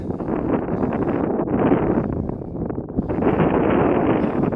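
Heavy wind buffets the microphone in a constant low roar near a hilltop trig point in Wales, rising and falling slightly, with no other sounds.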